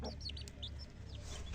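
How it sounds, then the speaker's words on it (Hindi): A hen clucks softly in a quick run of short calls as she leads her chick inside on a cold day, faint against a low steady background hum. "ये देखो मुर्गी लेकर अंदर जा रही है"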